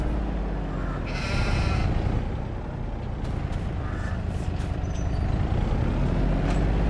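Sheep bleat in a farming video game over a constant low vehicle engine drone, with a few short, moderately loud bleats standing out above the machine hum.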